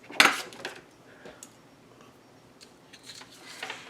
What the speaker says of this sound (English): Let's grab our scissors.